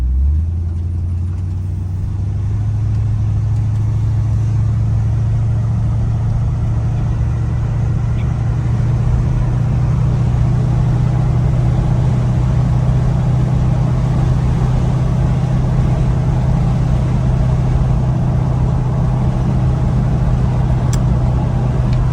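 A 1960s Ford Thunderbird's 429 cubic-inch engine drones steadily while driving, a constant low rumble with road noise heard from inside, with no voices.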